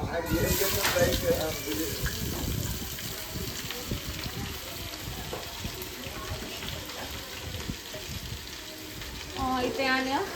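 Onions frying in a pan make a sustained sizzle with clinks and stirring, accompanied by running water and a voice speaking briefly at the start and end.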